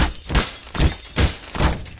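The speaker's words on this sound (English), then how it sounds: "Start breaking with glass." Glass panes shattering in the game Garry's Mod, four or five sharp breaking crashes in quick succession, each a loud burst with a short tail of tinkling debris.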